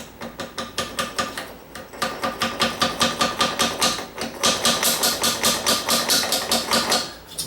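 A toilet being tapped into place with a shim during installation, heard as fast, steady taps, about three or four a second, with a short break near the two-second mark and no talking.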